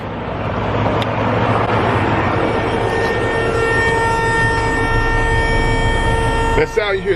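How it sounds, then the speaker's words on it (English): A semi truck lowers its air suspension airbag, a steady, loud rushing hiss over a droning idling engine that runs on unbroken, ending with a brief clunk. "That sound you hear, that's me lowering the airbag"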